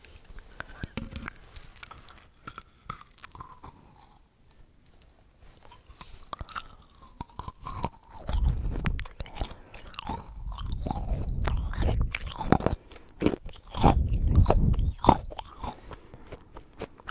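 Hard Halloween snack crunched and chewed close to the mic, with loud bursts of biting and mastication in the second half and soft speech earlier.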